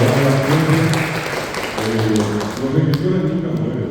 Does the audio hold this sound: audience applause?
yes